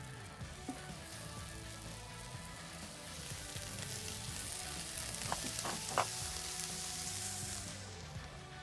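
Prosciutto-wrapped asparagus sizzles in a cast iron fajita pan inside a Kalamazoo Artisan Fire Pizza Oven over an open flame. A soft, steady hiss runs throughout, with a few faint clicks and pops toward the end.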